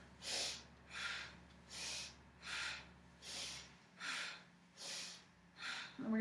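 A person does rapid, forceful breath-of-fire breathing, pumping air with the abs in a steady series of about eight sharp, rhythmic huffs, close and clear with no talking.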